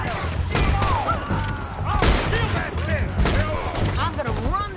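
Gunfire in Red Dead Redemption 2 on PS4 Pro, repeated shots and thuds mixed with hoofbeats and movement while characters talk over the action.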